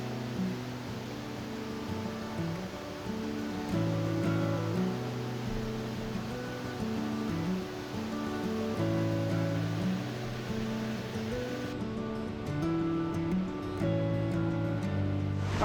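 Waterfall on Sweathouse Creek, a steady broadband rushing roar that holds constant throughout, with musical tones layered over it.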